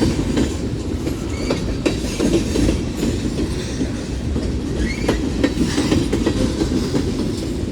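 A Union Pacific mixed freight train, including sodium hydroxide tank cars, rolls past Central Avenue with a steady, continuous clatter and rumble of wheels on rail, close and loud throughout, with no voices.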